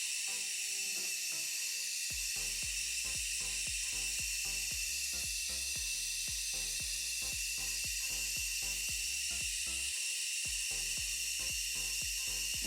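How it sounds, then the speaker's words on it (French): Steam hisses steadily out of heated liquid in a chimney-effect demonstration, a broad constant hiss lasting throughout, with a rhythmic series of low knocks or pops running under it. "c'est la vapeur qui sort"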